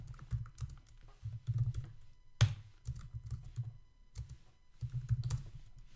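Keyboard typing in bursts of quick keystrokes, close and moderately loud, with one sharper key strike partway through and short pauses between runs; no talking.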